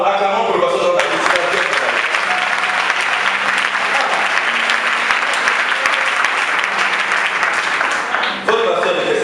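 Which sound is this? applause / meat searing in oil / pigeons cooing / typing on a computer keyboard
applause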